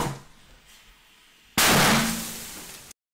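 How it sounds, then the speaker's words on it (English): A Fourth of July firework goes off inside a room: after a quiet stretch, a sudden loud bang bursts into a harsh hissing roar that fades over about a second before cutting off abruptly. "that's a firework that goes in the air"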